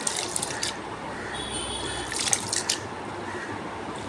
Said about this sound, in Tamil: நீங்கள் அரிசி ஊற வைக்கிறதுக்கு முதலே நல்லா கழுவி அலசிட்டு ஊற வச்சுருங்க